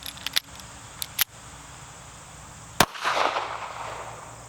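A Taurus Spectrum pistol fires Blazer ammunition outdoors, a few sharp close gunshots in an uneven sequence, then a pause and one more crack.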